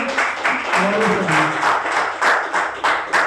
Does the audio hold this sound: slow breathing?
no